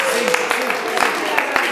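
Residents and visitors at an old age home in Soweto, South Africa, clap their hands in a loose, uneven rhythm of sharp claps beneath ongoing voices.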